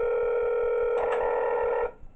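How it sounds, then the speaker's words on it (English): A telephone call tone in the video game Five Nights at Wario's, a loud steady electronic ringing tone holding for nearly two seconds before stopping. "Oh, we get a phone call?"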